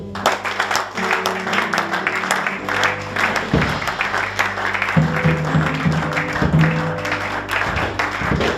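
A church congregation applauds and cheers in praise, sustained dense clapping with voices and sung tones mixed in, loud and full throughout.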